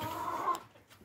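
A young hen on a small farm raising chickens that lay green eggs gives a short cluck, faint and close, fading into quiet.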